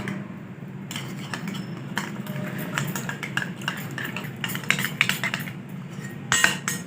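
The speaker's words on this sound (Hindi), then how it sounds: "सारे मसालों को अच्छे से मिक्स कर लेंगे" Spices stirred together in a bowl for a chicken steam roast with salt, vinegar and soy sauce, a spoon clinking and scraping in a steady, close run of small metallic taps with no talk.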